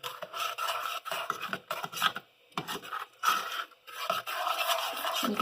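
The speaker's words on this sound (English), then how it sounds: "And keep stirring." Homemade playdough mixture is stirred in a pot, giving close, repeated rasping scrapes in uneven strokes with brief pauses between them.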